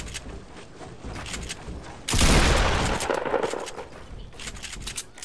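Gunfire from the video game Fortnite: a loud rapid burst of shots lasting about a second, with quieter clicks and shots before and after it.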